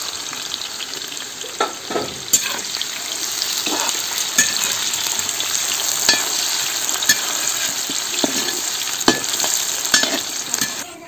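Bay leaf, cumin and onion fry in hot coconut oil for a tempering, giving a continuous close sizzle with crackling pops and occasional stirring scrapes throughout.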